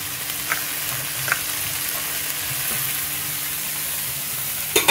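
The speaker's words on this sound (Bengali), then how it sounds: "এটাকে মশলার সঙ্গে একটুখানি ভেজে নেব।" Boiled figs fry in oily, cooked-down spice paste in a pan, a steady close sizzle with a few soft stirring knocks and a louder clatter right at the end.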